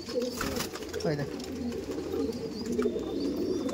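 A pair of Madras pigeons released at a loft sale, low cooing murmurs repeating steadily at close range, mixed with faint background noise and some talk.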